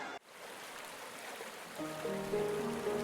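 Cartoon waterfall flowing as a steady, fairly loud wash of falling water, with a light musical tone layered in over the later part; no voices.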